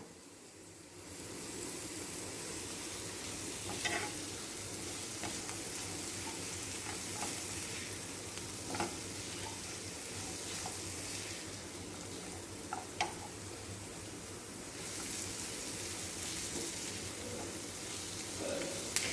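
Onions sauté in a pan over medium-high flame with a steady, fairly quiet sizzle that lasts throughout, broken by occasional spatula clicks and stirring scrapes.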